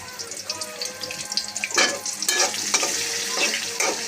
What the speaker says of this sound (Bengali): তেল গরম হয়েছে, মাছ ভেজে নিয়েছিলাম, আমি পেঁয়াজগুলো দিয়ে দিচ্ছি